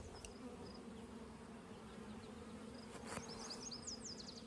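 Honey bees in an open hive colony keep up a quiet, continuous buzzing hum, with individual bees zipping past close by and a few brief louder wingbeat passes toward the end.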